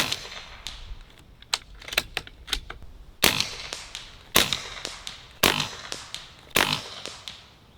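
A Beeman Chief II .22 airgun shoots 13.43 grain pellets at 100 yards, with four sharp, loud cracks evenly spaced about a second apart. Lighter clicks and ticks of handling come before them.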